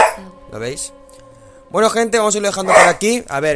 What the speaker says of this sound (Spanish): Siento los ladridos.